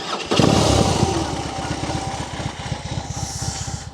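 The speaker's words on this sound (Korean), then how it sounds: "우선 머플러 소리 한번 들어봐야죠" A BMW R18 motorcycle's boxer engine fires up with a loud start, then settles into a steady, throbbing idle burble through the muffler exhaust, heard close and alone.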